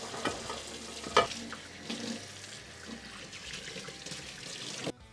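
An Our Place titanium pan is washed with soap under running water, giving a close, faint sound of splashing, scrubbing and sink water over a few seconds, with no talking.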